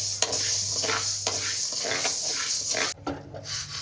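Mung beans frying and being stirred in a pan, a steady crackling sizzle with scraping stir strokes that drops off sharply near the end, heard alone without talk.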